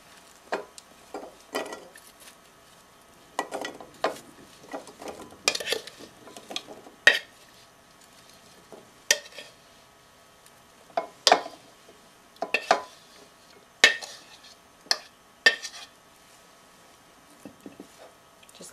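Ingredients for a baked crisp get mixed by hand in a bowl, with irregular clinks, scrapes and knocks of a utensil against the dish coming in short bursts between quiet pauses, close and fairly crisp.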